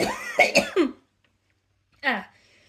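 A few quick, rough coughs close to the microphone, a short silence, then one more cough, with no talking around them.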